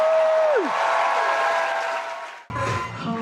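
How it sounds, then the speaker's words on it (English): Aboard the Disney Fantasy cruise ship, an audience applauds Silvana from guest services, a moderate burst of clapping under a falling musical tone, cut off abruptly as louder music with a beat takes over. "give her a big round of applause"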